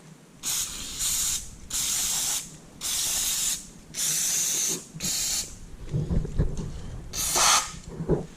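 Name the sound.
spraying cleaner on a turbo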